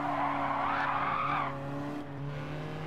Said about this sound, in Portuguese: O carro também derrapa um bocado